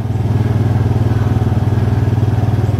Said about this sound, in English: Generator is on right now